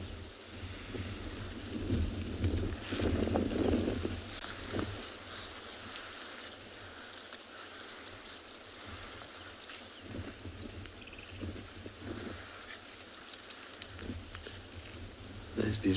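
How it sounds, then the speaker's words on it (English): Strong morning wind gusts blow across open ground on an early sunrise safari in the Kalahari, a steady, low roaring rush that swells and eases, with faint bird calls. "I'm going to keep quiet for a little bit so you guys can just listen to the wind blowing"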